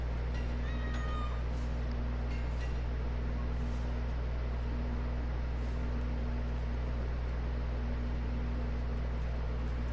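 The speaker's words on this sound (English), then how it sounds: "Ooh, it's a kitty cat." A cat meows repeatedly in the Assassin's Creed Valhalla video game, its short cries set over a loud, constant low rumble and hiss of in-game ambience.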